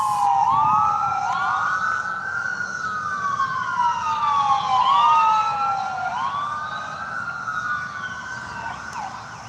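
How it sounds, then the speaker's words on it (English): A loud ambulance siren wails in repeated rising and falling sweeps, close by and steady, with no voices over it. "Oh, it's an ambulance."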